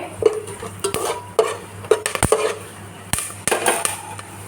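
Whole cinnamon, cloves and cardamom fry in hot oil for a biryani, with a light crackle beneath repeated metallic clinks and scrapes of a spoon stirring against the pot, plus a low steady hum.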